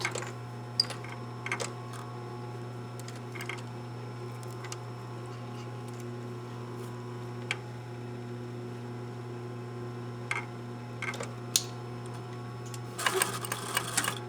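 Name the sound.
sewing machine stitching a gusset seam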